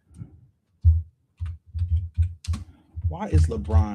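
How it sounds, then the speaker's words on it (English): Someone types on a computer keyboard in a podcast setting, a close run of irregular key clatter in short bursts, with someone talking over the last second. "I'm going to go ahead and type this here"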